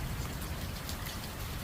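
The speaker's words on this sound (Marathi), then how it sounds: "बघा पाऊस बघा." Cooling April rain falls heavily outdoors, a thick steady hiss of drops close to the microphone, quiet overall and continuous for the whole moment.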